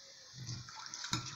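A few spoonfuls of water poured into a ketchup-based pizza sauce mixture, a brief soft splash and trickle up close, quiet, with a small clink partway through.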